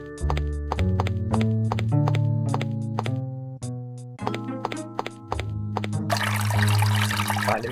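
A glass jar being filled with water in Maniac Mansion Deluxe: plinking synth game music plays throughout, then a short hissing, watery pouring burst comes in right at the end under the tune.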